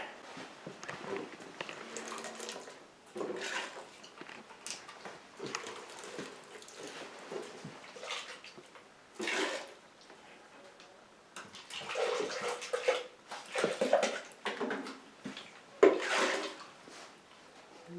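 Water is poured into a pan and a blender container is rinsed out while a hide is being brain-tanned, heard as intermittent close splashing and sloshing bursts separated by quieter gaps.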